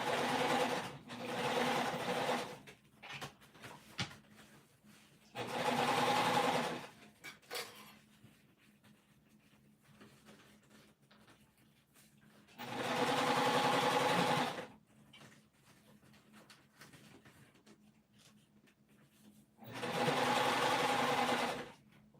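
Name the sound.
sewing machine stitching a crescent bag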